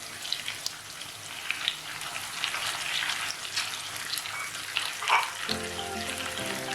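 Chopped onions and green chillies fry in a pan for desi-style pasta. The close, continuous crackling sizzle has a rain-like texture, and a low steady hum joins in near the end.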